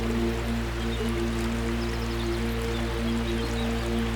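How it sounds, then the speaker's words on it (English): Oque Pipi Waterfall in the Sao Tome rainforest, a steady, dense rush of falling water that stays constant throughout, with a low hum and faint tonal lines under the broad wash. "The waterfall cascades down through lush vegetation"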